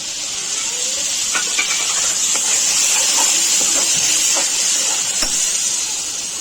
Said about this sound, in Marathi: आता कांदा थोडासा ब्राउनिश झालेला आहे, त्यामध्ये टोमॅटोची प्युरी टाकून घ्यायची आहे।